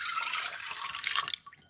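A brief trickle of milk poured into a mixing bowl for cinnamon roll dough, a thin, close liquid splash that tapers off into a few drips.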